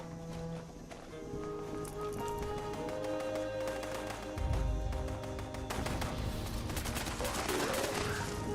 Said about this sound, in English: there's going to be 3 vertibirds and so many volleys of artillery